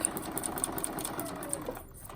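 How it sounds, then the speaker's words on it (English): A sewing machine stitching steadily up close on a practice sheet, its rapid mechanical needle rhythm running continuously before easing off near the end. "let the sewing machine do the work"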